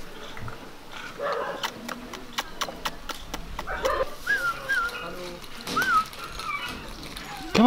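Many dogs bark in an animal shelter in Udaipur, India, a loud, busy chorus of overlapping yaps and yelps with some whistle-like cries rising over the din.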